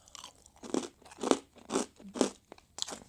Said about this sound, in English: they're so crunchy, my ears hurt